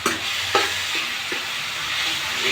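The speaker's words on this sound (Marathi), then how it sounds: "चांगला कांदा परतून घ्यायचा" Chopped onion with a little salt sizzles steadily in a pan for pav bhaji, broken by a few distinct scraping stirs of a spatula, close and alone with no talk.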